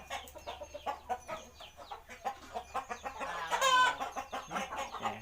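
A fighting rooster clucks repeatedly in short, rhythmic bursts close by, with a louder squawking rise near the middle.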